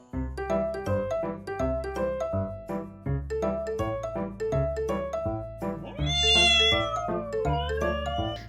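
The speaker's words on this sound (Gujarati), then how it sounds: "નરમ શરીર અને અનેક રંગ ધરાવતી બિલાડીઓ બની અમદાવાદમાં આકર્ષણનું કેન્દ્ર" Several cats meow loudly and repeatedly at a championship cat show in Ahmedabad, with rising, drawn-out cries overlapping in quick succession and a sharper high-pitched wail near the end.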